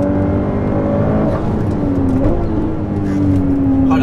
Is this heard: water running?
no